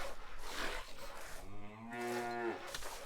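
Cows mooing in the medieval castle-building game Stronghold Definitive Edition, one long drawn-out low moo swelling in the middle, with a quieter lowing before and after, loud and close with no talk.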